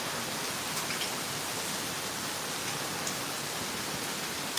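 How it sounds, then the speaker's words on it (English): Steady, dense patter of rain from Hurricane Ian, a continuous hiss-like wash with no breaks, fairly soft and even throughout. "I could just leave the rain on and you guys can fall asleep to the white noise"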